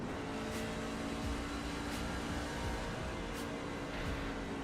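Race car engine in the iRacing simulator, a steady loud drone with shifting revs and a few brief sharp bursts, continuous throughout with no voices.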